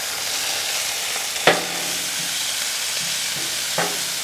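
Ground beef sizzling steadily on a hot Blackstone griddle, a constant frying hiss with a couple of faint scraping taps from a spatula breaking up the meat.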